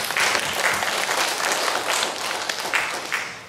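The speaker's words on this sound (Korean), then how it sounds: "함께 격려의 박수" A church congregation at a Sunday worship service breaks into steady, full applause, close and loud, keeping an even level before easing slightly at the end.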